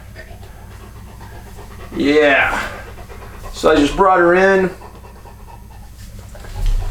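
A dog pants steadily after running outside on a hot day of about 85 degrees, now resting in air conditioning; the breathing runs continuously beneath a nearby person's speech.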